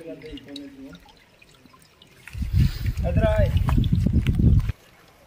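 Water trickling and dripping onto stone beside a mountain lake, a steady close wet rush that starts midway and stops abruptly, with someone talking before it begins.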